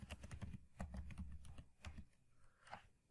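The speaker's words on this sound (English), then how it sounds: "So I'll type" Quiet, close typing on a computer keyboard, a quick run of light key clicks in irregular bursts with brief pauses, faint and alone.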